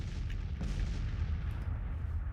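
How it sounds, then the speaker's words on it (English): Artillery fire in the Grand Tactician strategy game, a continuous, distant, muffled rumble of booming guns holding at a steady level, without talk. "South Carolina artillery opening fire."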